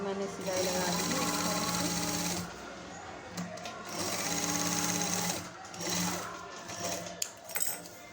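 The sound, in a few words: sewing machine stitching a blouse neck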